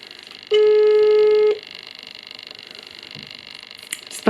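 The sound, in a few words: telephone ringing on an outgoing call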